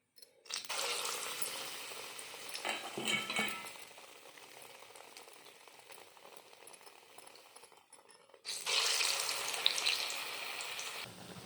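Sweet vada batter made from urad dal drops into hot oil in a village kitchen, giving a steady crackling sizzle that fades, then flares up loudly again as more batter goes in.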